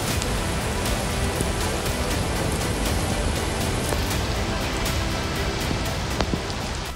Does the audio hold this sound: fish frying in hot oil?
no